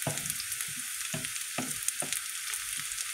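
Onions fry in a pan for lentil soup, a steady close sizzle broken by several soft scraping stirs spaced about every half second, with no talking.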